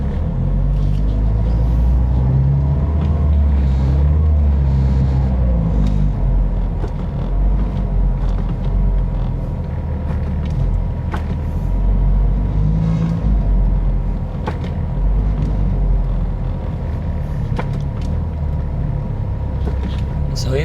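From inside a car in moderate city traffic on Pasig City roads, a constant low road and engine roar rolls on, with occasional passing-vehicle swells and faint clicks over it.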